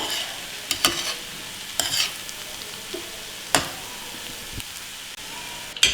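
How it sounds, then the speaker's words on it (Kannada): A spoon stirs spinach rice gravy in a pan on the stove, giving a steady low sizzle with a few scraping knocks and clinks spaced irregularly across the stretch, close by, with no voices. "ಚೆನ್ನಾಗಿ ಇದು ಹೊಂದ್ಕೊಳ್ಳೋ ಥರ ಇದನ್ನು ಮಿಕ್ಸ್ ಮಾಡ್ಕೋಬೇಕು"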